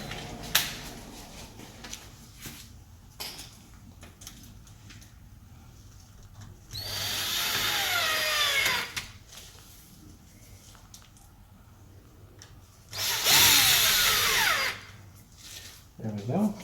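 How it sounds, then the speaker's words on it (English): A power drill drives two side screws into a Kwikset SmartCode 888 door lock, giving two loud whirring bursts of about two seconds each, separated by a quieter stretch with a person talking. "So now I'm going to just put these two side screws in right here."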